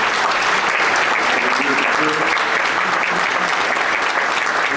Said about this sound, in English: We can have a round of applause for all those folks.